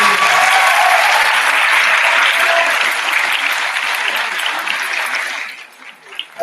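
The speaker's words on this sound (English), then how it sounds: "Let's give everybody a round of applause." An audience applauds at a Texas debate ceremony, a dense, sustained wash of clapping from a large crowd that holds steady, then thins and fades out near the end.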